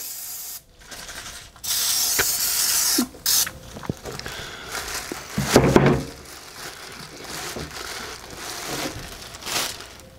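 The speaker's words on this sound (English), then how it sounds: "we'll go ahead and spray our handle." Bursts of hissing Easy-Off aerosol oven cleaner sprayed onto a cast iron handle, one long continuous blast followed by shorter sprays, with faint handling clicks in between.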